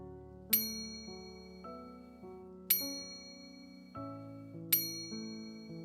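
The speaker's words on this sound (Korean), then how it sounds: "자정을 알리는 종소리다." Bells ring out to announce midnight, with three bright struck peals spaced about two seconds apart and long ringing decays, set over softer melodic tones underneath.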